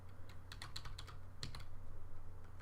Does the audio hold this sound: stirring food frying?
no